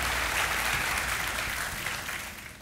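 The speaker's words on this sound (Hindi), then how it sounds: "तालियों के साथ अभिनंदन करते हैं हम आपका" Steady studio audience applause on the KBC (Kaun Banega Crorepati) game show, a thick wash of many hands clapping that holds evenly before tapering slightly at the end.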